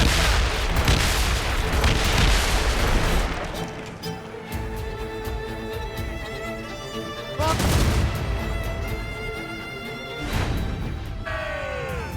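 Naval cannon fire from a sailing ship in the Assassin's Creed Rogue video game: heavy booming broadside blasts in several loud waves, rumbling and crashing, with shouting crew voices and music between the salvos.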